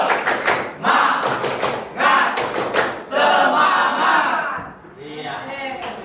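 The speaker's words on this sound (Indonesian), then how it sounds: "Yuk, kita semua tepuk semangat dulu." A group performs an Indonesian 'tepuk semangat' clapping chant, led by one child: loud, energetic voices chanting together in bursts, punctuated by sharp rhythmic claps and thumps, with a short pause before the chant resumes more softly.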